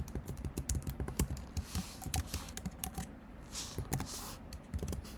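Quick, irregular clatter of keys on a computer keyboard while Python code is typed, close and crisp clicks in bursts with short pauses between them.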